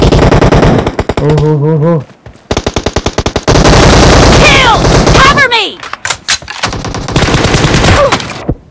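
Rapid automatic gunfire bursts from a shooter video game, loud and close, with stretches of sustained fire broken by brief pauses and a few sharp single shots, while someone talks over the action.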